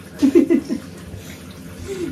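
A shower runs in a home bathroom, giving a steady watery hiss throughout, with a brief burst of voice-like vocal sounds near the start.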